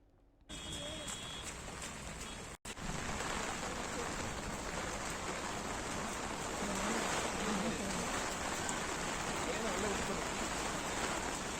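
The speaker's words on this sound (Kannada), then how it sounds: "ಮಳೆಯಾಗ್ತಾ ಇದೆ" Steady, dense hiss of rain falling at the Linganamakki dam reservoir, continuous and fairly loud after a brief quieter start.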